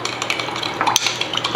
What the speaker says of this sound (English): So stir this together